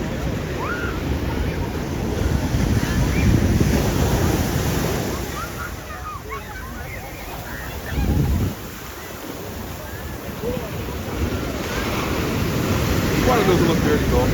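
Ocean waves surge and roar continuously at Ipanema Beach in Rio de Janeiro, mixed with wind buffeting the microphone, with one heavier surge midway and faint voices in the background.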